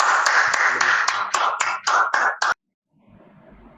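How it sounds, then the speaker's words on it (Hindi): Audience applause fills an auditorium at a World Music Day and International Yoga Day celebration, a dense burst of clapping lasting about two and a half seconds, then cutting off abruptly into near silence with faint low murmuring. "जोरदार तालियां"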